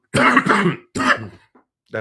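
Several rough coughs from a lecturer in quick succession, then a lone short cough after a brief gap, heard up close.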